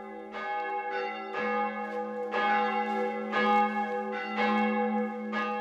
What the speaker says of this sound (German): Für das Weihnachtskonzert nimmt sie sich noch mal die Zeit zum Läuten.